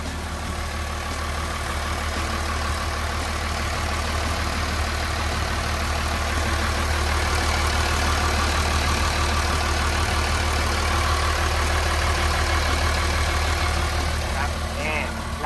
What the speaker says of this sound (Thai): ตัวนี้จะเป็นเครื่องยนต์ 6 สูบเทอร์โบนะครับ